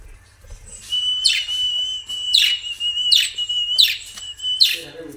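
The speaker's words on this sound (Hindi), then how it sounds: "और सीटी मारनी पड़ेगी," A person whistles repeatedly to call pet budgies, giving about five sharp, rising whistle bursts at a steady pace over a sustained tone, close and fairly loud with little else around.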